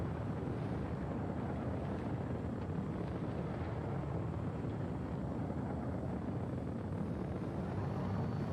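Steady aircraft engine drone after takeoff in a video game, a continuous broad roar holding at an even level throughout with no voices.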